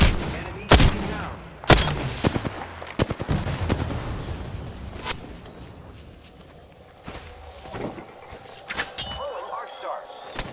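Gunfire in the shooter game Apex Legends: several sharp, loud shots and short bursts early on, then scattered softer shots and footsteps over a quieter stretch, with occasional voices.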